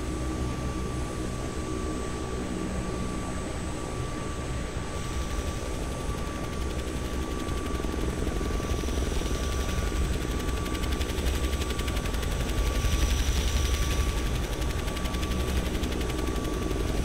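Helicopter in the flight simulator FlightGear, a steady continuous rotor and engine drone with a fast chopping texture, loud and unbroken throughout.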